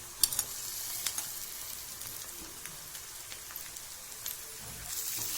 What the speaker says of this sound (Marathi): आता या स्टेपला आल्यानंतर याच्यामध्ये आपण कापलेले बारीक चिरलेले टमाटे घालायचे